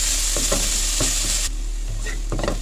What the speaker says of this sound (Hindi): इसको हमने थोड़ा सा सौटे करना, गोल्डन वगैरह नहीं करना, सिर्फ थोड़ा सा सॉफ्ट करना